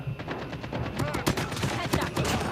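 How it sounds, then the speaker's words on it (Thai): Pistol and rapid gunfire in Call of Duty Mobile crackles in quick bursts of sharp shots, fairly loud and close, with a voice now and then over the firing. "ปืนพกเขายิงแม่นจริงครับสองนัดแตก"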